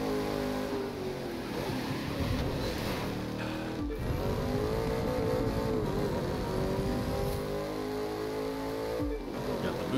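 A car revving and accelerating with a nitrous boost in The Crew 2 racing game, a loud continuous engine roar with rising pitch sweeps and brief drops between gear shifts.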